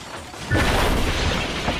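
A toy train engine from Thomas and Friends smashes straight into a crossing, a sudden loud crash that breaks in halfway through and is followed by a sustained rumbling clatter.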